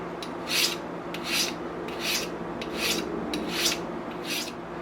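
A file drawn in slow, even passes along a steel broadhead edge to sharpen it, about six distinct rasping strokes close up with short pauses between them.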